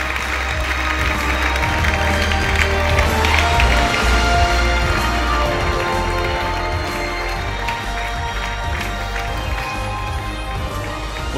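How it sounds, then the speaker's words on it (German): A large gala audience at the ADAC Sportgala breaks into sustained, even applause for the motorsport athletes of the year, thick continuous clapping filling the hall for over ten seconds with no letup. "Einen großen Applaus für die beiden Motorsportler des Jahres."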